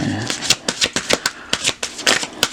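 Tarot cards being shuffled up close, a rapid series of crisp riffling bursts in an uneven rhythm, fairly loud and with no talking.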